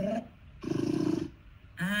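A stock animal roar effect from the Scratch sound library, used as a bear: a sustained growling roar of about half a second between short bursts of other sound, close and loud.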